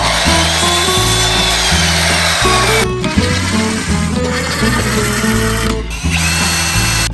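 A power drill drives screws in loud, close, continuous whirring runs, its pitch stepping up and down as the trigger changes, with brief breaks between screws.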